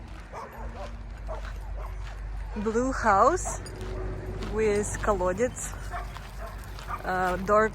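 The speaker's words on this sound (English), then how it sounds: "Dogs are barking" Village dogs bark and yip in a few scattered bursts at moderate distance, heard under someone talking over a low steady rumble.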